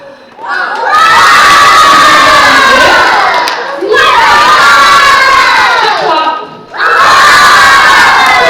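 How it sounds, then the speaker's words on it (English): A loud crowd at a performing poodle act bursts into cheering and applause in three long waves, each swelling quickly and holding, with brief dips between them. "Applause for Apollo."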